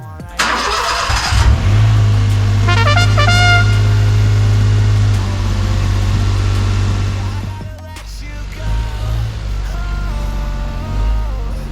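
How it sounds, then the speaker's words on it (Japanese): A Daihatsu Copen with lowered suspension and over-fenders, which has an abnormal noise, cranks and fires up loudly, then settles into a steady idle with a brief dip and restart of the engine note. "ちょっとエンジンかけてみます。"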